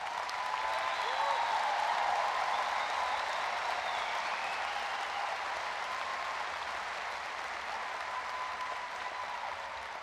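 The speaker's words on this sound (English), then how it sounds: "How about another round of applause for that?" Sustained audience applause fills a commencement ceremony, steady and dense from start to finish with a faint voice rising briefly near the beginning.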